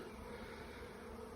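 A swarm of honey bees that has just left its hive in Jackson, New Jersey, makes a continuous low buzzing drone, faint and even throughout.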